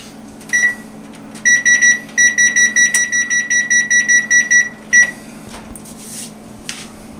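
An oven timer goes off to signal that rock cakes are done, sounding as a loud run of rapid repeated electronic beeps in bursts that stop after a few seconds.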